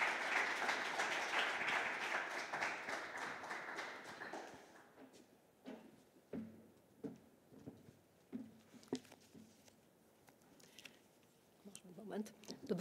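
Audience applause at a Polish festival gala in a cultural centre hall, a dense burst of clapping that fades after a few seconds into scattered claps, with a voice speaking over the later part.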